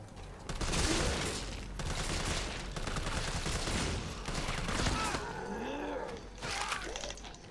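A grenade blast in the video game Resident Evil 3 Remake, loud and dense, tangled with rapid gunfire-like bursts and crashing debris that continue across the whole stretch, with brief vocal sounds near the end.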